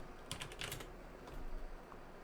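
A computer keyboard is typed on while someone works in Webflow. A short, quiet burst of close keystrokes comes first, then a few scattered taps, with no voice.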